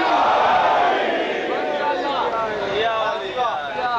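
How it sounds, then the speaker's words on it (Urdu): A large crowd at a religious Jashan Imam Ali gathering in Bahawalpur loudly chants the slogan Nara-e-Haidari with raised hands, a sustained roar of many voices rising and falling together. "دونوں ہاتھ بلند کر کے بلند آواز میں نعرے حیدری"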